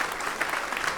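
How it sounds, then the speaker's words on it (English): An audience applauds Benny Golson at a live jazz conversation event, a brief burst of steady, dense clapping from a crowd at moderate distance. "Please have another round of applause for Benny Golson"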